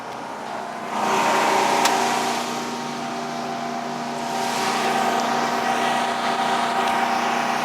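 Chevy V6 engine running on wood gas and driving a 25-kilowatt generator, a steady loud drone with strong tonal hum that swells briefly in intensity, continuous and close with no speech.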